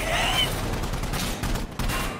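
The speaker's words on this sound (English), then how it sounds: "He's on the main gun, so he's shooting like completely through the building at you" Machine gun fire from a mounted main gun in the shooter Insurgency Sandstorm, tearing through a building, comes as a close, loud stretch of rapid bursts with brief dips between volleys.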